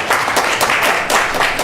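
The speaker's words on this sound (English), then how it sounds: "So a big round of applause for her as well." A big round of applause from an audience at a temple gathering, steady dense clapping that stays loud and continuous throughout with no voices standing out.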